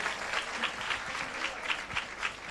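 Church congregation at a Sunday prayer service clapping for a pastor, a continuous, fairly even patter of many hands with soft pulsing swells, close and unbroken.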